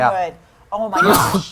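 A single sharp sneeze bursts out close by, with a person talking and exclaiming just before and after it.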